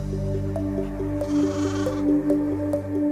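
Dall sheep in the tundra of Denali, Alaska, bleat in a series of close, wavering, nasal calls that overlap one another against a low background hum.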